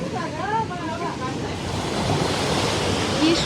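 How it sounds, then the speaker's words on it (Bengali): Sea surf roaring on the beach at Cox's Bazar, a steady broadband wash of breaking waves with wind buffeting the microphone, loud and continuous throughout. "সমুদ্রের গর্জন ঢেউ,"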